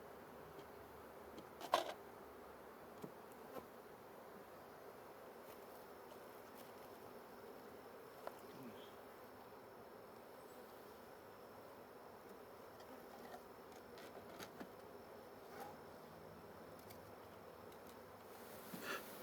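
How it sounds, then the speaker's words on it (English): A honey bee swarm is shaken from a frame into a top hive box, giving a faint, steady insect hum with a few brief knocks and taps scattered through it. "we're going to shake them in this top box"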